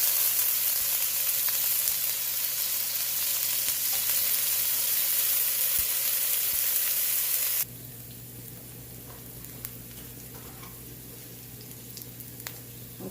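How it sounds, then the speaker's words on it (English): Garlic hits a hot pan and sizzles with a loud, steady broadband crackle and hiss. Partway through it drops abruptly to a quieter, continuing fry, with no talking. "to this hot pan, let's go ahead and add some garlic"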